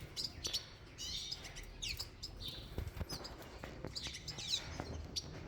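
Small African finches, cordon-bleus and St Helena waxbills, chirp in an aviary with a busy stream of high, quick tweets and short calls, fairly faint and overlapping against a soft background hiss.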